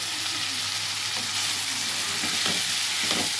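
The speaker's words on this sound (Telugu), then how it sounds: "దీంట్లో కొంచెం ఉప్పు వేసుకొని వేయించుకుందాం" Drumstick pieces with salt fry in a pan for a drumstick tomato curry, a dense, constant sizzle close up, broken by a few soft stirring scrapes, with no voices.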